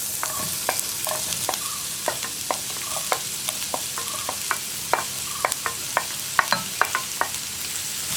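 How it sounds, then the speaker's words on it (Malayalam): Chopped onions fry in hot coconut oil for a green peas curry, a steady broadband sizzle running throughout with a string of sharp clicks and scrapes from a utensil stirring the pan, close and fairly loud, no voices. "നമുക്കിതിലേക്ക് കട്ട് ചെയ്ത് വെച്ചിരിക്കുന്ന സവാള ചേർക്കാം."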